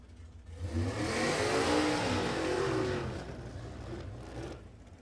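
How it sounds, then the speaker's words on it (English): A dragster launches down the strip at Warwick Dragway in Australia, a loud roaring engine sweeping up in pitch and then fading into the distance as it passes. "Ella Sting out there now in the dragster."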